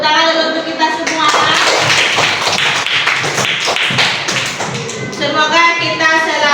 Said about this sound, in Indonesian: Tepuk tangan dulu untuk kita semua.